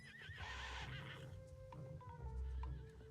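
A riderless horse in the video game Star Stable lets out a loud, wavering whinny near the start, then goes quiet. Steady in-game music and faint hoof sounds continue underneath.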